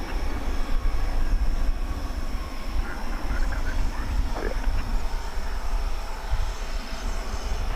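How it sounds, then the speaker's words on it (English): An Airbus A320 airliner departs DFW Airport at daybreak with a continuous, fairly loud jet roar and rumble that holds steady throughout. "It's headed south of the border to Cancun, an Airbus A320."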